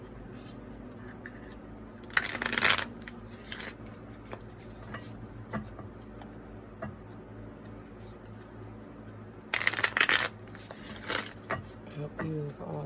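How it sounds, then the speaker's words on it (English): A deck of tarot cards is shuffled in two brisk bursts of riffling and rustling, separated by quieter handling, with soft room noise throughout. "I'm going to shuffle and get the cards out"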